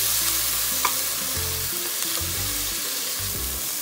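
Garlic and other ingredients browning in a pan for fish moqueca, a loud, dense, continuous sizzle and crackle of hot oil heard up close, with a faint clink, no speech.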